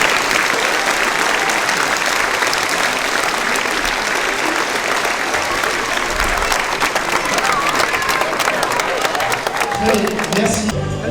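An audience at a judo club gala in Limoux gives the judokas a long, loud, sustained ovation of dense clapping with some cheering mixed in, with faint voices surfacing near the end.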